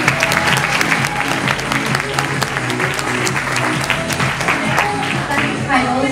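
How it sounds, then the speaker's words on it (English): Lively applause from a pageant audience at a Miss USA teen event, many claps overlapping in a dense wash with music and a voice faintly underneath. "Can I get a round of applause?"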